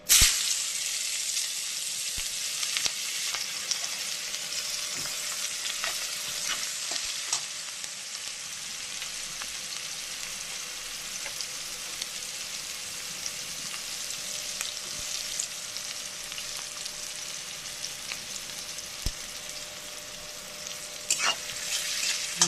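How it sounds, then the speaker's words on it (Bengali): Chopped onions sizzle and crackle in very hot oil in a wok, a steady dense frying hiss that holds for the whole stretch with occasional small pops and no talking. "এবার আস্তে আস্তে পেঁয়াজ কুচিগুলো দিয়ে দেবো কড়াই।"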